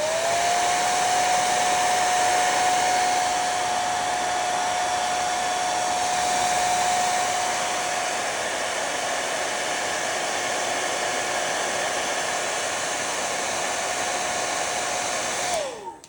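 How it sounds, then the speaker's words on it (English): Hair dryer blowing steadily on a watercolour painting, a loud continuous whirring hiss with a steady whine that holds for about fifteen seconds before the motor cuts off abruptly at the end. "I'm actually going to blow dry this."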